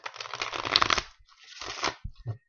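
New playing cards being shuffled in quick riffling bursts, a crisp fluttering rattle followed by a second shorter shuffle and a couple of soft taps, close by.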